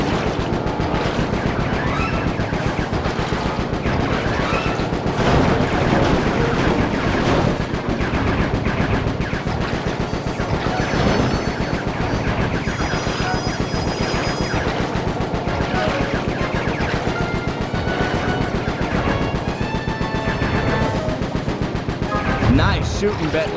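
Rapid bursts of gunfire in Sly 3: Honor Among Thieves, dense and loud throughout, layered with game music and effects with no quiet gaps.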